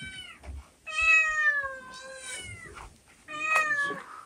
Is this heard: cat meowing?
yes